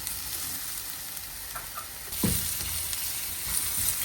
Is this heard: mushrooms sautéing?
yes